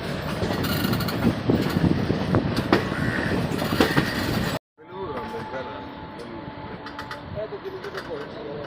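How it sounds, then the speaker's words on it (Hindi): The Maa Tara Express from Sealdah to Rampurhat rolls past at close range with a dense clattering rumble of wheels and carriages, then cuts abruptly to a quieter station-like ambience with a faint tone and soft mechanical noise. "सामने से निकल रही है माँ तारा एक्सप्रेस सियालदा से रामपुर हाट।"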